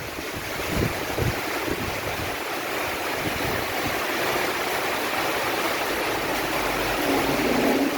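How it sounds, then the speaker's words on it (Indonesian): Heavy rain pours down around a church in Jatinegara, Jakarta, a dense, loud, unbroken watery roar with gusting wind noise and a few low thumps, no talking. "Ini hari Sabtu nih, Sabtu siang di sekitar Jatinegara hujannya sangat deras."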